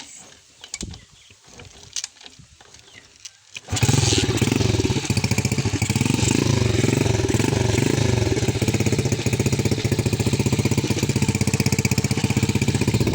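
A DIY motorbike engine is kicked over with a few rattling tries, then fires and keeps running loud and close in a rapid, steady chugging idle.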